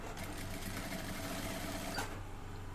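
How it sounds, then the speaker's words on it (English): A sewing machine runs steadily as it stitches the neck of a kimono jacket, a continuous fast mechanical whir at low volume with no pauses. "We're sewing the neck alone."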